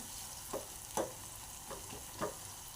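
Spice masala roasting in oil in a pan, a faint continuous sizzle with four soft scraping stirs at roughly half-second gaps, close and quiet, nobody speaking.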